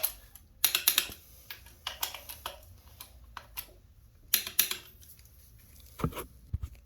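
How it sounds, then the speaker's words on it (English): A torque wrench tightens a bolt to 35 foot-pounds during work on a 2013-2018 Nissan Altima's engine and transmission, producing close, irregular clusters of sharp ratcheting clicks and ticks separated by short quiet gaps. "So I'm just torquing this to 35 foot-pounds."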